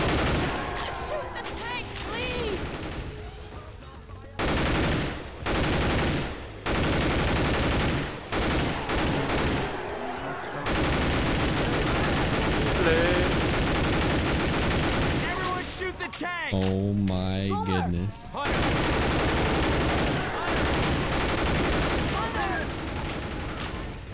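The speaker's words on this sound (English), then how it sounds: "Highly explosive bullets that even stun the tank" Rapid bursts of explosive-bullet gunfire from the game Left 4 Dead 2 come in repeated loud volleys separated by short pauses, with a voice talking over parts of it.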